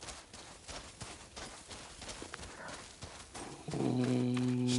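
In a video game, a horse walks with soft hoof clip-clops in a steady rhythm under faint background sound, then a sustained tonal music cue swells in near the end.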